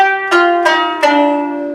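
Three plucked qanun zither notes ring out in succession, each bright attack fading into a sustained shimmering resonance.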